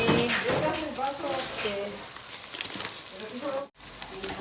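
Food fries in a pan while kofta chanay is being made, with a steady loud sizzle and hiss, some stirring clatter and a brief gap near the end, and a voice talking over it.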